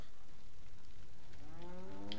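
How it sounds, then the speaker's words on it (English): A cow moos in the video game Resident Evil 4, giving one drawn-out, rising call in the second half over a low, constant background hum. "No, kill the cow."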